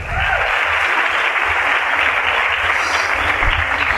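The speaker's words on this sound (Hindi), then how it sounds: "इसलिए खुद के लिए जोरदार तालियां" Loud, dense audience applause fills a motivational business seminar hall, steady and continuous with many hands clapping at once, close and sustained throughout without a break.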